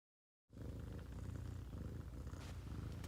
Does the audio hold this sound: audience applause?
no